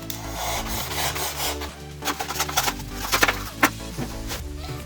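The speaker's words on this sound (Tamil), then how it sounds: "உங்களுக்கு நான் சமமாக ரெண்டு ரெண்டாக கட் பண்ணிக்க போகிறேன்" Cardboard being cut into two equal pieces, a rough rasping and rubbing scrape that builds into a string of short crunching strokes near the end, close up, with background music underneath.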